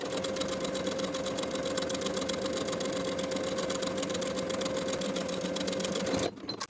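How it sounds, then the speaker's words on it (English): A sewing machine runs in one long, even burst while edge stitching the hem of a fabric ruffle, its rapid needle chatter close and steady before stopping abruptly near the end. "we'll edge stitch the hem of the ruffle in place along the upper inner fold all the way around"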